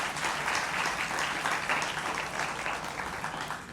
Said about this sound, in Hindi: एक बार फिर तालियों के साथ स्वागत करिए काजोल देवगन का